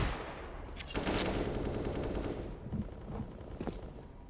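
Automatic M4 rifle fire in Counter-Strike: Global Offensive, a sustained rapid burst followed by a few shorter bursts and single shots, moderately loud with no talking.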